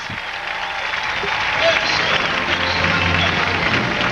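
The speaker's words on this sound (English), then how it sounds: "And now the crowd is giving a round of applause to the athletes" Stadium crowd at a state games opening ceremony applauding the athletes, a broad steady wash of clapping and cheering in a large open venue beneath a commentator's voice.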